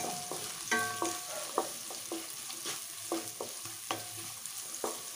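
Two small onions fry in a pan for egg fried rice, a quiet sizzle under repeated spatula taps and scrapes as they are stirred.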